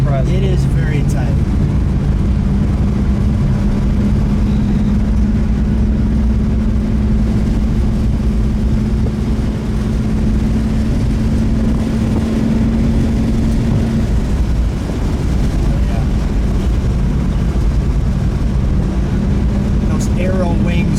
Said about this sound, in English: This is really an honor to be driving your car.